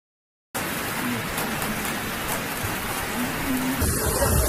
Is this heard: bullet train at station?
no